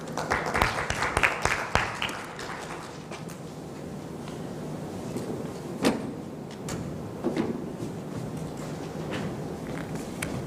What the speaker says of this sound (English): I think the weatherman needs a bigger round of applause